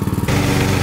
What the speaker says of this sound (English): I got some mowing to do